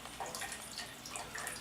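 Liquid pouring out during saison beer brewing, a faint, steady trickle and splash with light gurgling, quiet and continuous over a short stretch, no voices.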